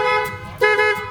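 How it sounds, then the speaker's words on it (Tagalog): Two short honks from a motorcycle horn being tested, a bright buzzy toot followed by a second slightly louder blast, heard close up. "Check nyo raw busina."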